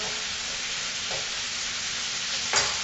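Onion, garlic and spices sauteing in a pan, an even hissing sizzle throughout with one brief stir or scrape near the end.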